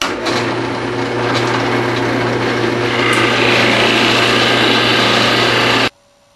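A drill press with a Forstner bit hums and grinds steadily as it cuts a shallow hole into wood, loud and close, for about six seconds before stopping abruptly.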